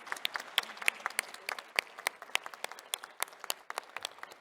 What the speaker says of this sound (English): can we all first give across a big round of applause to the panelists here